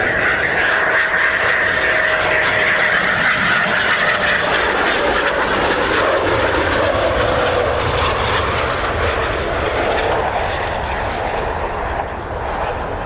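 A Eurofighter Typhoon FGR4 jet with 2 Squadron markings flying near RAF Coningsby, a loud continuous roar with a broad rushing character that holds strong before easing slightly at the end.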